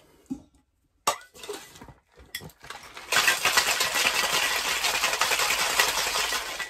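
A tiki cocktail being shaken in a cocktail shaker: after a few clinks and knocks, a sustained loud rattling of ice churns steadily for several seconds, close and without talk.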